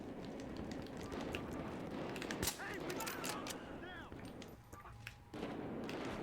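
AWS sniper rifle shots in Battlefield Hardline multiplayer, a few sharp cracks and thuds under continuous game noise with chirping effects.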